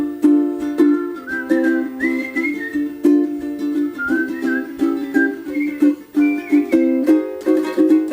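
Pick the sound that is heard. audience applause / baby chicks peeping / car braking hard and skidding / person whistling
person whistling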